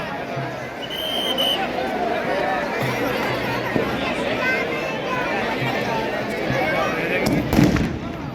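A town-council fireworks display in an open ground at the Dussehra fair in Kekri, with a steady run of crackling bangs and pops over loud crowd babble and chatter.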